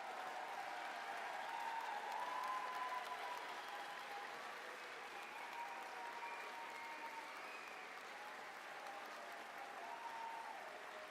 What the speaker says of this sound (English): please stand up for a moment and let's give them a round of applause